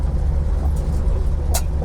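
An old small car from around 1991 on its first drive in decades, its engine a steady low rumble close by with a couple of brief higher noises, and no voices.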